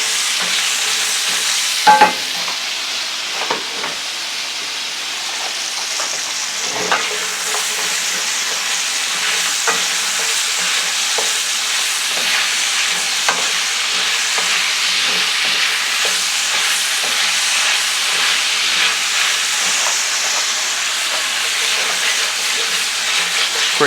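Carrots, onions and peppers sizzle steadily in a pot with a broad, constant frying hiss, broken by scattered scrapes and clinks of a utensil stirring them. No one speaks.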